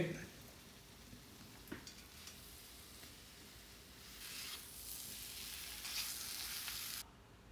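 Garlic-ginger paste frying with coriander powder for a chicken curry gives a steady, soft sizzle that swells louder midway, with a few faint clicks of stirring throughout.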